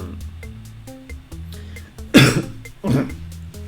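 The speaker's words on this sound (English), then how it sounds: "And coughing." Two sharp coughs burst out close by, a second apart, over a quiet background of faint clicking and low hum.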